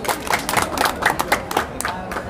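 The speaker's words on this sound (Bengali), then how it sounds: "আর একটা করতালি দিই" An audience at a talk-show gathering gives a round of applause, with quick, close hand claps forming rhythmic bursts and a light crowd murmur behind them.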